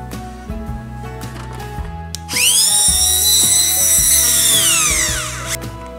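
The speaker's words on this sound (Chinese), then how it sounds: "记号做好以后就可以钻洞" A power drill bores holes into broken porcelain for a staple (ju ci) repair, a loud high-pitched whine starting partway through and running steadily for about three seconds, with quieter tool handling before it.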